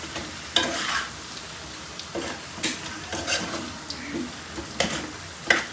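Potatoes frying in a spice masala for an aloo anday curry, with soft sizzling and irregular stirring scrapes and clinks of a utensil in the pan, close by and fairly quiet.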